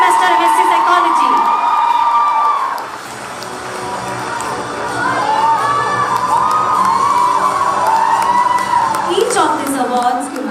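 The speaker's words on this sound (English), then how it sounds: "Let's give a huge round of applause to Alicia Matthew of second semester MSc Psychology." Audience cheering and whooping at a college day award ceremony, a loud sustained crowd roar with shouts rising and falling across the whole stretch, dipping briefly midway before swelling again.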